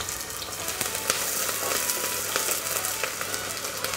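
Onions dropped into hot oil with toasted bay leaf, cinnamon, clove and cardamom give a bright, steady sizzle with crackling pops, close and continuous without talk.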